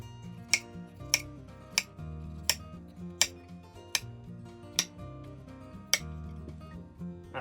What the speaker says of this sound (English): I'm gonna cut sort of the edges off of this tomato to avoid the seeds as best I can, dice it up a little bit